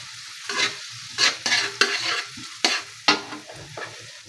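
Garlic sautéing in a pan for a coconut-milk crab dish, a loud close sizzle punctuated by repeated bursts of stirring every half second or so, with no talking.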